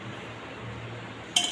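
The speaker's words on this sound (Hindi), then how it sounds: "अब हम एक कुकर लेंगे। कुकर के अंदर इस तरह से एक स्टैंड रख लेंगे।" A metal stand is set down inside a pressure cooker in a kitchen while chicken is prepared, giving one sharp metallic clink near the end after a quiet stretch of low background hum.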